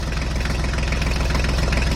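A truck engine runs loud and close at a steady idle, with an even, rapid low throb and rumble that never changes pace across the whole stretch. No voices are heard.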